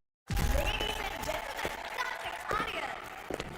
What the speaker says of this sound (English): please appraise our team with a thunderous round of applause